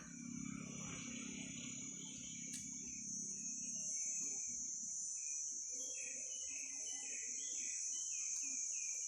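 Pollinating insects in an organic tamarind orchard give off a steady, high, thin chirring drone that runs unbroken throughout, with scattered faint bird calls and soft rustles beneath it.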